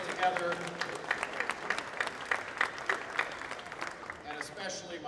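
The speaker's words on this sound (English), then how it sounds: "great big round of applause for all the staff and volunteers that put all of this together" A crowd at an open house event gives a sustained round of applause for staff and volunteers, a soft, steady patter of many hands heard from a distance.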